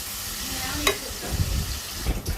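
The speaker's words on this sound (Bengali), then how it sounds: "এখন মাংসগুলো দিয়ে দিব" Pieces of goat meat go into a hot pan and fry with a close, crackling sizzle, punctuated by stirring knocks and scraping of a spoon against the pan; no talking.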